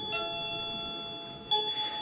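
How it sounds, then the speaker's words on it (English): A doorbell chimes nearby, its steady ringing tones sustained at a moderate level, with a second, brighter strike about halfway through. "So I've got this doorbell here,"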